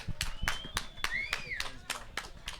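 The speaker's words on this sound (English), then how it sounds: "Round of applause for Nick, please." Scattered hand claps from an audience at a community event ring out in an uneven, sparse patter, with voices and a whistle-like tone mixed in underneath.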